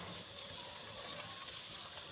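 Water is poured into a pan of spiced okra being cooked, a soft, steady gush that runs throughout at low volume.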